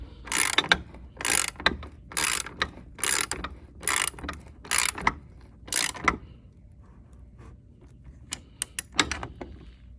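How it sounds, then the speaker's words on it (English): Socket ratchet tightening bolts on a homemade dolly for a Pelican Bass Raider kayak, about seven loud, close bursts of rapid clicking, then a few lighter scattered clicks. "Just using a socket to tighten these things up."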